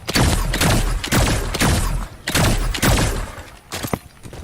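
Pulse rifle bursts in Fortnite, loud and close, four heavy clusters of rapid shots spaced about a second apart, each burst thumping and crackling before a brief pause.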